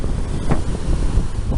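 Strong wind buffets the microphone on a south-facing beach at Emerald Isle, North Carolina, during Tropical Storm Arthur, with rough surf and whitecaps roaring underneath, loud and continuous.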